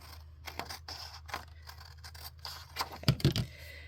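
Scissors trim paper in a few short, quiet snips spaced unevenly, ending in a quick cluster of louder crisp cuts near the close.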